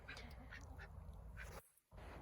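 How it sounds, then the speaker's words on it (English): Several runner ducks quack repeatedly in short nasal calls over a steady low rumble, with a brief drop to quiet near the end. "these are called runner ducks"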